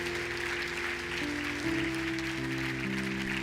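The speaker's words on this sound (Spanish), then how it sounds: "Dale un aplauso al Señor" A church congregation applauds in a steady wash of clapping, with a sustained musical chord underneath.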